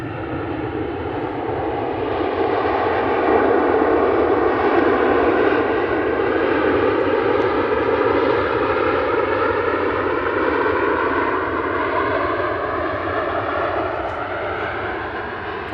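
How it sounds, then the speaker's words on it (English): A Ryanair jet coming in to land at Manchester Airport on arrival from Belfast, a loud, steady broadband roar with slowly sweeping engine tones that holds strong and close throughout. "There's a Ryanair coming in."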